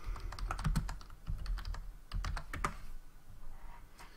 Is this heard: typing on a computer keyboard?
yes